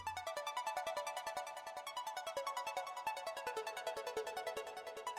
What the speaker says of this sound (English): there's a square wave and a sawtooth, which just makes it sound like this